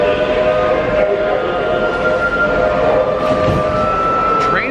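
A long, steady monorail train horn blares over busy crowd chatter and ambient noise at Disney's Magic Kingdom, sustained throughout with a rising pitch near the end.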